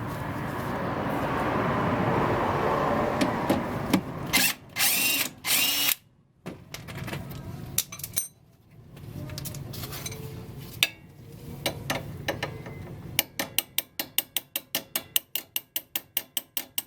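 A power tool and a ratchet work loose the fork bolts on a Honda del Sol's suspension. It opens with a loud, sustained whir, then come bursts of driver spin and clanks, then a fast, steady run of close ratchet clicks.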